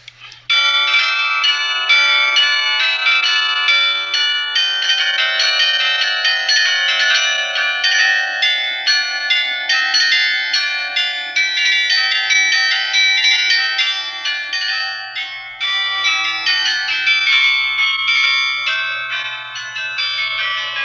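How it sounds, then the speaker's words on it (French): Carillon bells of the Douai belfry in northern France ring out in a loud, continuous cascade of overlapping chimes, sustained for about twenty seconds with only a brief dip near the end. "le carillon et le beffroi de Douai sont sans doute ce que l'on connaît le mieux de cette ville"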